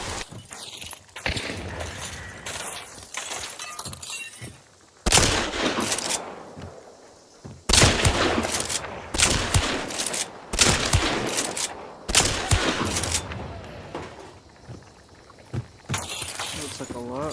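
Repeated gunfire bursts from the sci-fi shooter game Marathon, loud sharp volleys in clusters with brief gaps between, mixed with game effects and occasional exclaiming voices.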